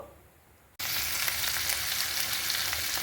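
Cumin and chopped vegetables for a vegetable fry hit a hot pan, and a loud, steady, close sizzle starts suddenly and carries on without a break.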